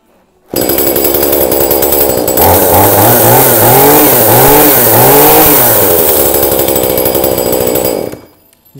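A Japanese Honda two-stroke brush cutter engine starts abruptly and runs loudly, its buzzing note rising and falling through several throttle blips before cutting off near the end.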